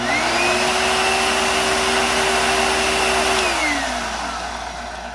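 An old Hoover vacuum cleaner in normal mode whines steadily and loudly, its tone holding for several seconds before dropping in pitch and fading as the motor winds down.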